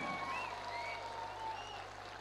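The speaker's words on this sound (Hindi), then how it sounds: "जोरदार ताली मैनेजमेंट के लिए, जोरदार ताली, जोरदार ताली" Steady applause from a crowd at a speech fills the moment, a dense wash of clapping with a few voices faintly calling over it.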